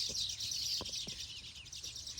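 A dense flock of sparrows in village farmland twitters continuously, bright high chirps layered into a steady busy wash, with a few nearer isolated calls breaking through.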